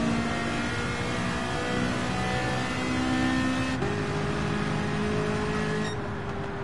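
Bugatti Veyron race car in Gran Turismo Sport, a steady loud engine drone with rising harmonic tones as it accelerates and shifts, continuous with no talk.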